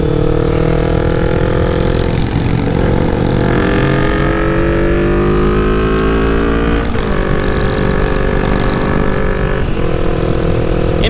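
Motorcycle engine running steadily at speed while riding on the Tail of the Dragon at Deals Gap, a continuous loud drone whose pitch slides up and down through gear changes, with no talk.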